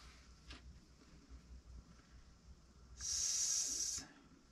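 A silicone sealant gun squeezes out a bead of silicone on a glass fountain build: a steady, fairly loud airy hiss lasting about a second, set against quiet room noise and a brief faint click.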